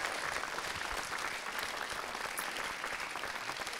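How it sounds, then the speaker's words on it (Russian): A concert or show audience gives a continuous round of applause for a young singer, a thick, even roar of clapping that stays loud and unbroken throughout. "Давайте поаплодируем."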